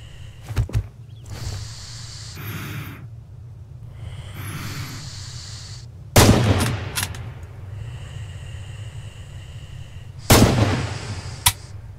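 Rifle fire in the video game Red Orchestra 2: Heroes of Stalingrad comes as several loud, sharp shots spaced a few seconds apart. Metallic bolt-action clatter follows some shots, with distant battle noise between them.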